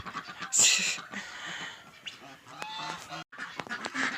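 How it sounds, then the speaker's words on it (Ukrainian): Loud, raspy farmyard geese honk repeatedly at close range in a village, with overlapping calls from several birds coming in irregular bursts. "Ось той білий дуже гарний гусак, великий такий."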